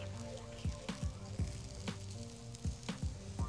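Salted courgette pieces sizzle on a hot plancha in a soft, steady hiss, punctuated by repeated light taps and pops from the pieces being moved around.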